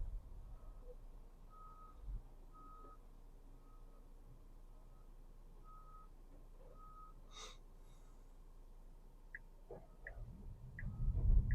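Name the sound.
truck reversing with backup beeps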